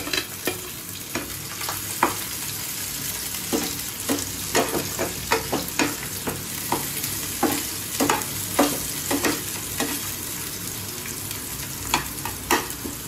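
Dry spices frying lightly in a little white oil in a kadai, with a steady soft sizzle and repeated scraping stirs ticking at an uneven rhythm, close and clear with no talk.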